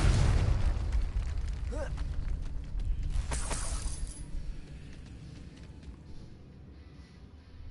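Confringo blasting spell in Hogwarts Legacy, a loud booming explosion at the start with bright crackling sparkle, decaying into a fading rumble and quieter ambience.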